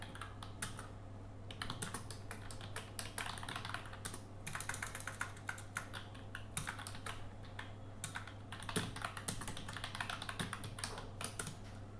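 Typing on a computer keyboard for a Windows Subsystem for Linux session, with rapid irregular key clicks in bursts and brief pauses, quiet and close over a low hum.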